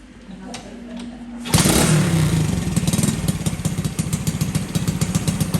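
Honda CT70 minibike fitted with a swapped Lifan engine bursts into a loud, rapid, close-up clattering run and keeps revving with a steady pulsing beat, after a quieter idle hum.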